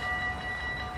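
Train arriving at Roermond station, a brief steady rumble of rolling stock with faint whining tones over it, heard alone and fairly close.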